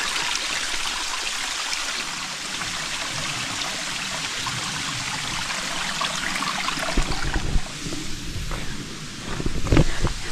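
A small waterfall on Mill Creek near Table Rock pours steadily with a dense, hissing rush of falling water, close and continuous, with a few rustling bumps near the end.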